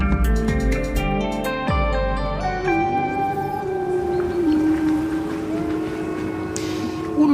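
A long, wavering howl rises and glides over a steady low rumble, sustained and fairly loud throughout, with tonal pitches bending slowly upward then settling.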